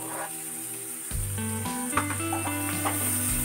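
Roughly chopped onion goes into about 10 grams of melted butter in a pan, and a sudden steady sizzle and hiss starts and keeps going, with faint stirring sounds and a low tonal background.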